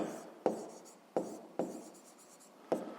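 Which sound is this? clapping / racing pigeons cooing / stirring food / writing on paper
writing on paper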